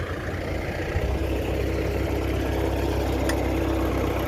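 A tractor engine runs with a steady, continuous low rumble as the machine is hauled up out of trouble on a grassy field near a well; the sound stays close and even throughout, with no talking.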